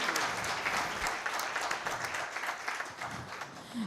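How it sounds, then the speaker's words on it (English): An audience at a seminar claps for a speaker, a full round of applause with many hands beating in a steady, dense patter that stays fairly loud and close for the whole stretch. "Let us have a huge round of applause once again for Senior Advocate Saurabh Soparkar ji."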